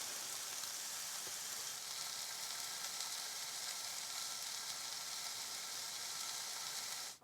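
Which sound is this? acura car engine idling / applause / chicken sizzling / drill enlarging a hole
chicken sizzling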